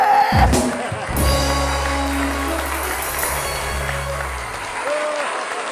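Studio audience applause on a late night talk show, a sustained wash of clapping layered over a low droning hum and music, starting after a brief burst of sound and running on steadily.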